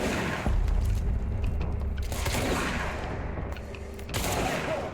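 Shotgun blasts in the video game Control, loud booming reports over a dense, rumbling game soundscape with several sharp bursts spread through the moment.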